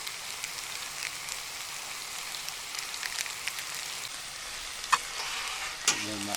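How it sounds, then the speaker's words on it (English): Peppercorn sauce hitting a hot pan on an outdoor camp stove gives a steady, close sizzle and hiss with small crackles, a couple of sharper pops near the end, and no talking. "The peppercorn sauce going in."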